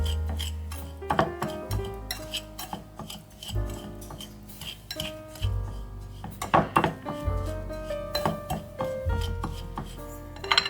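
A whisk clattering against a bowl, mixing apple pie ingredients, rapid rhythmic metallic scraping and clinks in several close bursts, with brief pauses and no talking.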